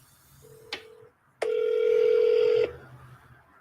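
An outgoing telephone call gives a brief beep, then a steady ringback tone lasting just over a second, clear and close, with quiet background in between.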